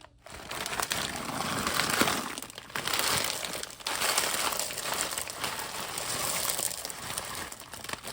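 A plastic bag of mixed vegetables being handled up close, crinkling and rustling in several bursts with short pauses between them, nobody speaking.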